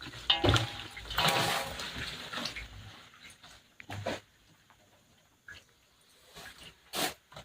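Water splashes and sloshes in short bursts as pigeon pea (tur) pods are rinsed by hand in clean water, with quieter pauses between the louder swishes.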